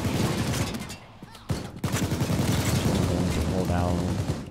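Rapid gunfire from a Payday 2 safehouse raid, dense bursts of tap-fired shots with a brief lull midway, loud and continuous alongside game noise.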